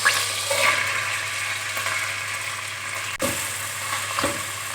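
Chopped onions hit hot oil in a cooking pot for chicken yakhni pulao. A steady, loud sizzle and crackle of frying continues throughout, with a brief dip and a stir partway through.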